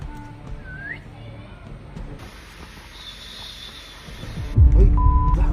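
A whistle blown during an outdoor game of hide-and-seek at Campinpin: a short rising chirp, then later a brief steady tone, among rustling, hiss and a loud burst of noise with voices nearby.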